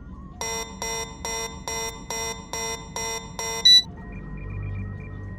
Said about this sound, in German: Der Alarm kommt aus dem Hangar